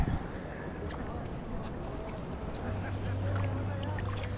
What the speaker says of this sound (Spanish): Pero esa moto acuática viene ya a destino.